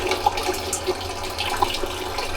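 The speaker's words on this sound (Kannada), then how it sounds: "ಇದೇನು ಕುಕ್ಕರಲ್ಲಿ ನೀರು ಹಿಡಿತಾ ಇದೆಯಾ?" Water runs steadily from a water purifier into a pressure cooker, a close, continuous trickling and splashing stream with small bubbly plinks on top.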